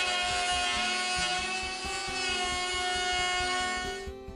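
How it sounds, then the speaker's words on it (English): A router cuts out wood for a homemade camera slider, a loud high whine with rhythmic chattering pulses as it bites the workpiece, stopping abruptly near the end. "Now just to router it out."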